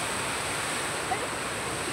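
Heavy rain and strong wind outdoors, a dense, even roar of falling water and gusting air filling the whole stretch at close range.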